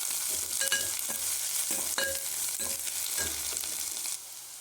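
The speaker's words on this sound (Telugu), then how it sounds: "ఇప్పుడు వీటిని కచ్చాపచ్చాగా వేయించేసుకోవాలి" Spring onions and grated carrot fry in a hot pan, a bright continuous sizzle punctuated by several sharp stirring scrapes, close and unaccompanied by speech.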